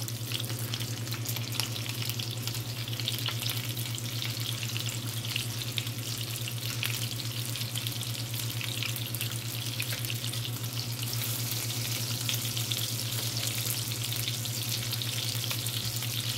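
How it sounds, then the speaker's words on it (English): Turkey tails simmer in a pot, a steady, even bubbling and sizzling hiss with a constant low hum underneath, close and continuous with no talking. "we're going to put these turkey tails in here and let them simmer for a while"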